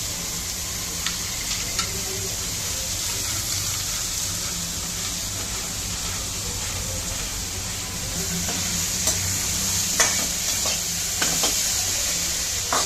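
Tomatoes cook in a pan with a low continuous sizzle and hiss, broken by occasional scraping and clinking as a utensil stirs them, growing slightly louder toward the end.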